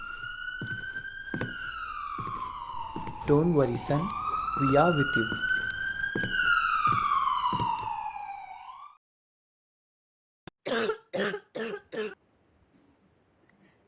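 An ambulance siren from the PUBG Mobile video game wails loudly in a sweeping rise and fall for about nine seconds, with a voice and coughing mixed in, then cuts off before a few short spoken words.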